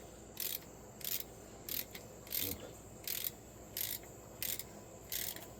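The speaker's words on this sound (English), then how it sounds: "It's just a little cheap Harbor Freight 3/8 ratchet." A cheap Harbor Freight 3/8-inch ratchet working on a bolt during teardown of a Dodge 4.7 engine, giving seven evenly spaced bursts of faint metallic clicking about once per second over a quiet background.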